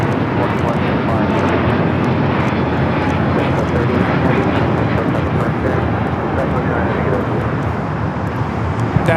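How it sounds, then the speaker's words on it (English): A Delta Airlines Airbus A350-900 takes off at LAX, its jet engines a loud, continuous broadband roar that holds steady throughout without any gaps. "That is Delta Airlines Flight 39 taking off to Shanghai on the A350-900 in the 100 Years livery"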